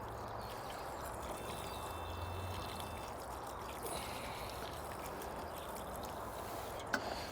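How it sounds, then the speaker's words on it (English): Water poured over newly planted pea plants in a garden plot, a continuous broadband splashing wash at moderate loudness, steady throughout with no talk. "And then we'll just water them in."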